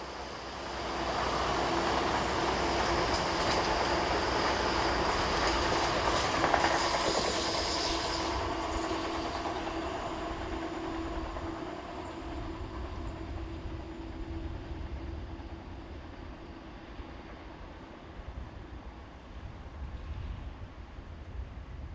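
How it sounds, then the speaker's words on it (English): Diverted Great Western passenger train running from Paddington to Swansea, a steady rolling rumble with faint rail clatter that swells in the first half and then settles into a continuous, moderately distant roar with no voices. "This is one of the diverted Great Western passenger trains, the 918 from Paddington to Swansea"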